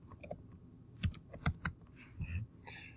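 Keystrokes on a computer keyboard, a short irregular burst of close clicks and taps with uneven spacing, fairly soft and with no voices.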